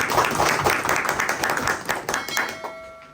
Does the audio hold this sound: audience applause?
yes